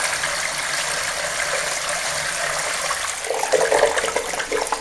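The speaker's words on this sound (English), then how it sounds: "You can see how much water is required to fill those riffles." Water pouring through the riffles of a fine-gold finishing sluice station, a steady close rushing flow that swells into louder gurgling splashes toward the end.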